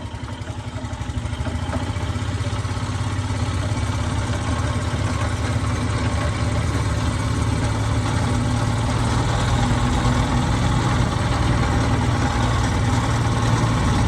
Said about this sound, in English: This motor has always been noisy.